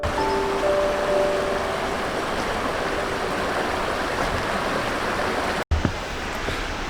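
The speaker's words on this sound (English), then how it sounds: "Little bit of rapid right there." River rapids near a beach and waterfall in northern Wisconsin, a steady close rushing of water with a brief cut near the end.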